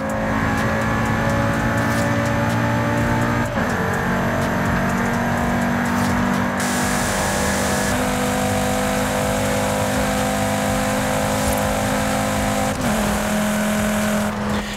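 Cupra five-cylinder engine in the Forza racing game, revving and roaring loudly and continuously with shifting pitch and a few abrupt gear changes.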